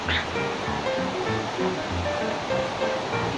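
A stream rushes during a river crossing on a rough rural road trip in Columbio, Sultan Kudarat, a steady close wash of flowing water with brief voices and laughter over it.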